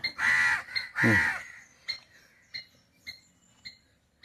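Two loud, harsh caws from a nearby crow, followed by a series of shorter, evenly spaced clicking calls fading off.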